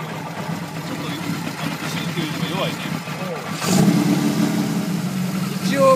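An engine idles poorly, with its idle badly off and the fast-idle setting faulty. It makes a steady, close rumble with a louder surge near the middle, while people talk over it throughout.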